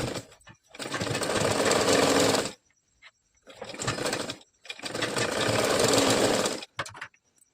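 A sewing machine stitches a blouse in three bursts of fast, even whirring, each a few seconds long, separated by short pauses with a faint click between.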